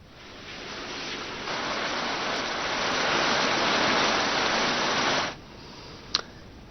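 Steady rain falls as a dense, even hiss for about five seconds, then cuts off sharply and leaves a quiet background.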